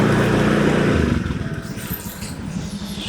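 A motorcycle engine revs loudly close by for about a second, then drops off into a fading putter as the bike rides away, with faint background sound afterward.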